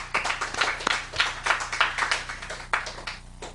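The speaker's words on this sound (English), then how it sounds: "And I want to give another round of applause to Mariam and Kavi." A small audience gives a round of applause for two speakers, Mariam and Kavi, at a talk: scattered, uneven clapping from a modest group that rises and falls in quick bursts over a few seconds.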